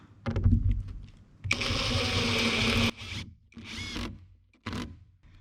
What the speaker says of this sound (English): I'm going to be using 2-inch screws about every foot to get this OSB locked down